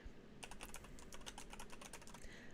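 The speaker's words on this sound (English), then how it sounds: "typing hurts my fingies now" Rapid, steady keystrokes on a computer keyboard, a close, dense run of clicks with brief pauses, over a faint room hum.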